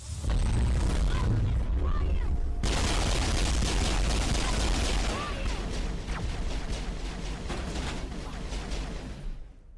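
Dense, continuous gunfire and booms in a Mass Effect shootout on Insanity difficulty, loud and sustained throughout with no clear gaps.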